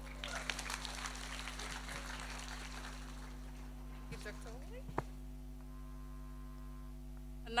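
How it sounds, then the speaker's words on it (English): Applause from a crowd at a Fiji Day celebration in Brisbane, a burst of clapping that thins and fades over a steady electrical hum, with voices speaking faintly around it. "Another round of applause to Dr. Oli."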